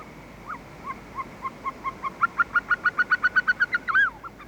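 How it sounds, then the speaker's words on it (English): A Caucasian snowcock on high stony mountain crags gives a rising series of clear whistled notes that quicken into an evenly spaced run of about a dozen loud calls, then end in a drawn-out note, fairly near and alone over faint wind. "Caucasian snowcocks."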